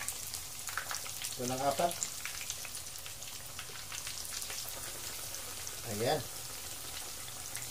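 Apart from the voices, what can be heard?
chicken cordon bleu frying in hot oil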